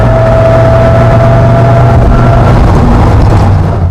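A Dodge Viper's engine drones steadily at highway speed around 80 mph, heard from inside the cabin as a loud, continuous low rumble with a faint whine and no talking.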